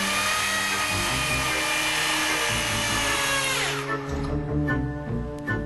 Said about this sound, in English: Every time Justin starts to drill, Jenny unplugs the cord.